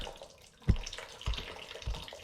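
Antifreeze dripping out of a Minneapolis Moline A4T tractor radiator, three sharp drips spaced about half a second apart over a faint background hiss.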